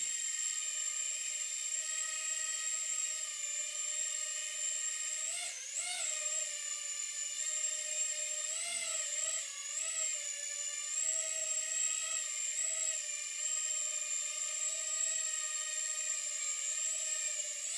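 Small scratchbuilt GEPRC PX3 quadcopter hovering indoors on its maiden flight, giving a steady high-pitched whine of motors and props that shifts slightly with throttle, continuous and fairly close, with no talking.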